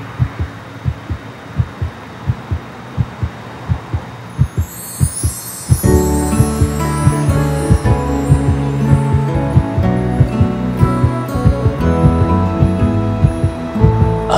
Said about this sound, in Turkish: Kalp atışını.